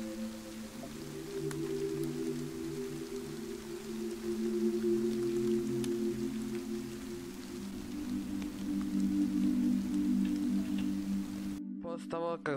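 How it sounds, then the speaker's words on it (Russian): Heavy rain falls in the video game DayZ, a steady close hiss of downpour over low droning tones that carries on throughout and cuts off abruptly at the end. "Двигаясь со стороны Сереграда, пошел сильный ливень."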